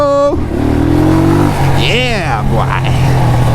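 A motorcycle engine revs hard and loud at close range, rising in quick sweeps while a rider shouts excitedly over it in street traffic.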